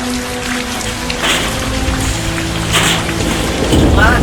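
Heavy rain pours steadily onto surfaces, a dense continuous hiss that stays loud throughout, with faint voices and other noises in the mix.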